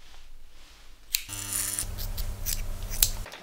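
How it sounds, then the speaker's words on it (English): A pair of scissors cutting hair at home, several close, crisp snips over a quiet background, one sharp click standing out near the start. "I'm back to relying on Nikari and her surprisingly good skills with a pair of scissors"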